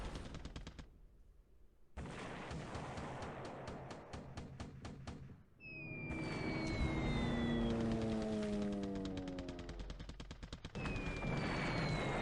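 Bomb hits on warships in a War in the Pacific game, heard as rapid bursts of explosive impacts and gunfire in quick succession, followed by a loud roaring blast with descending whistling tones, no talking.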